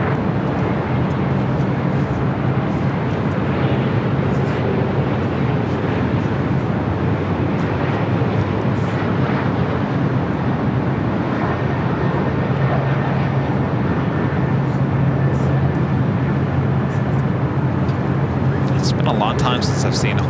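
Hawaiian Airlines airliner taking off from the south side at LAX, a steady broad jet roar running throughout, with faint radio chatter and voices over it.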